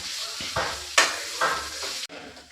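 Sliced onions sauté in a pan with an uneven sizzle, broken by several sharp bursts of stirring and scraping over a few seconds.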